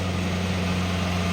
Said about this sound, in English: that's the tractor we rode earlier.